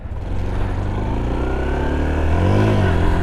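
Honda Super Cub C125 motorcycle pulling away in first gear, its small engine buzzing steadily and rising in pitch as it accelerates, close and fairly loud.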